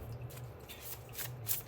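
Tarot cards shuffled by hand in quiet, soft papery riffles and rustles, a few brief bursts over about two seconds, faint and close.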